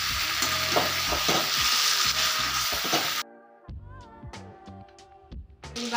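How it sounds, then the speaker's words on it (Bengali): Chicken pieces being sautéed in oil for chicken biryani, a loud crackling sizzle with stirring scrapes that cuts off abruptly, leaving quieter clinks and scraping of utensils. "আবার ওই তেলেই আমি মাংসটা কষে নিয়েছি"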